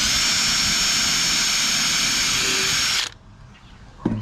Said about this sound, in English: The first pilot hole is being drilled right now.